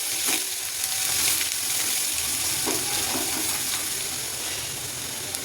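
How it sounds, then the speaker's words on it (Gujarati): Garlic sautés in hot oil with popped mustard seeds, cumin and asafoetida for a karela dish, giving a steady loud sizzle with scattered small crackles close by and no talking. "પછી લસણ નાખીશું અને લસણને સાતળવા દઈશું થોડું"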